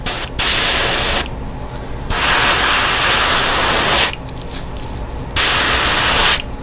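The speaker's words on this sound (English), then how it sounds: "So I'm just using a light spray here." Light bursts of spray paint misted onto a fishing lure, three loud airbrush-like hissing passes separated by short pauses, close and steady with no talking.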